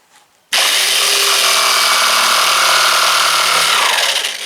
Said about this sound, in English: I'm cutting it out with this jigsaw.